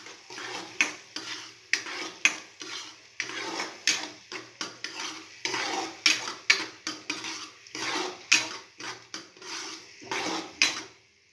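A spatula scrapes and stirs chopped onions in a pan in quick repeated strokes, with a soft sizzle underneath and occasional metallic clinks.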